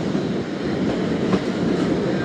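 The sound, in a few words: Karachi Express train departing Sahiwal railway station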